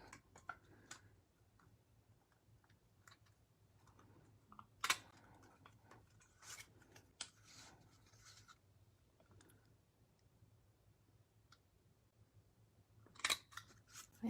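Scissors snip along the edges of a folded paper color card: sparse, quiet snips with a couple of sharper cuts near the start and end, set against a faint steady background hum, with no talking.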